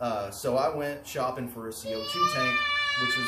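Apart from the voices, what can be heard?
children yelling in the background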